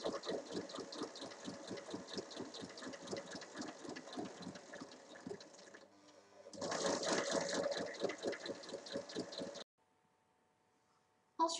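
A sewing machine stitches fabric strips right sides together for a reversible pouch, a rapid rhythmic mechanical chatter running steadily for several seconds, pausing briefly, resuming louder, then stopping into near silence.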